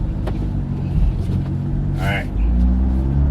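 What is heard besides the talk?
car driving on the interstate with a carbon fiber roof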